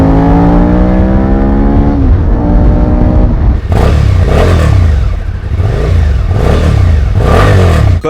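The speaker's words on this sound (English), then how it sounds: "the SV is a V-twin. It makes a much richer, much more bassy, much more satisfying sound." Suzuki SV650 V-twin motorcycle engine from 2017, first idling with a deep bassy pulse, then revving hard in repeated loud rising and falling sweeps close by.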